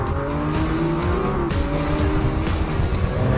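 A Lamborghini Aventador Roadster with a naturally aspirated 6.5-liter V12 drives hard, its engine roaring loud and continuous, rising and falling through revs with tire noise, close and sustained without talk.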